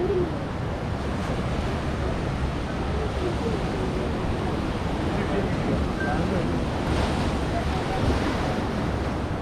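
Ocean surf rolls continuously onto the sand at Kovalam beach in Kerala, a broad, steady roar mixed with heavy wind buffeting the microphone.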